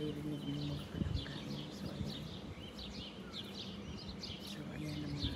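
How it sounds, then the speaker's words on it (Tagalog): Morning birds chirp around a quiet home, light repeated tweets scattered over soft background hum, fairly faint and distant. "Puro ibon ng maririnig ng mga palangga."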